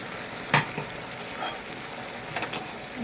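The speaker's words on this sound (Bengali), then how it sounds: "মশলাটাকে এইভাবে কষতে হবে" Ginger, green chilli and spices sizzle in a pan with a little water while being stirred for chicken curry, a steady frying hiss broken by a few sharp spatula scrapes and clinks, with no talking.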